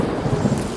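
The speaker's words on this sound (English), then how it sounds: "but a sudden downpour soaked the ground" A sudden downpour in an audio drama makes a dense, steady rush of heavy rain with low rumbling textures. It is brief, loud and heard without any voice.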